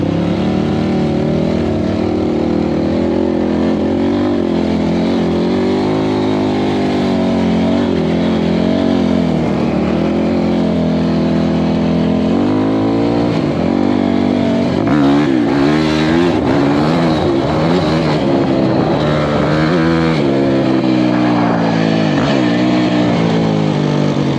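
An off-road side-by-side engine putts along in first gear on a Kentucky trail, a loud, steady low rumble with brief revving swells near the end.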